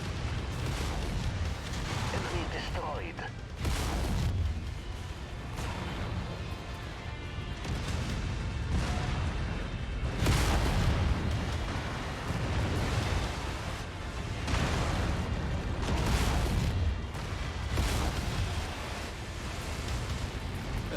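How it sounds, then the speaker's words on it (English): Heavy weapons fire and explosions rumble through a battle in MechWarrior 5: a dense, continuous roar with repeated booming bursts, loud throughout and without talking. "Just like getting weapons fire out of the middle of nowhere."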